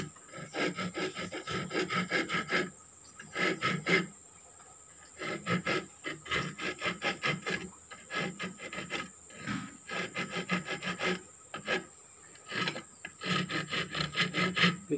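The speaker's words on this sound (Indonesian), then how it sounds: "Kalau mau pakai kikir kayu pun boleh" A wood file rasps back and forth across wood during outdoor work on a spring snare trap, in repeated bursts of steady scraping strokes separated by short pauses, close and fairly loud.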